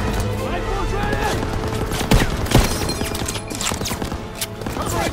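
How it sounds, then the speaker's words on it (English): Suppressing machine-gun fire in the WWII shooter Call of Duty WWII, a dense continuous battle roar with a couple of sharper close shots standing out midway, under shouted soldier voices. "Suppressing fire!"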